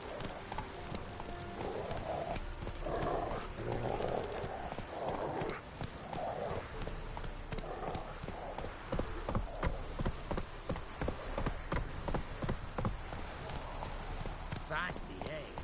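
A horse gallops in The Witcher 3, with steady rapid hoofbeats on the ground beneath a voice speaking throughout, plus occasional snorts and a faint whinny.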